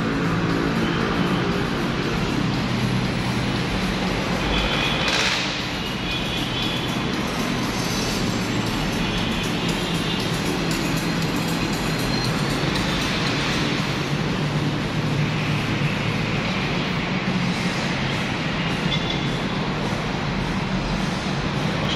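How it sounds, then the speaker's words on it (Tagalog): Continuous rumbling and rolling roar of an LRT train at Balintawak Station in Manila, loud and steady throughout with no speech. "So dito tayo maghihintay mga idol ng LRT papuntang Maynila."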